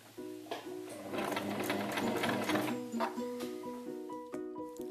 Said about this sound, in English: The machine will pull it through to the back automatically.